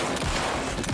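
Gunfire in the survival horror game Alan Wake 2, a quick burst of two or three loud, close shots within a second, with no talking.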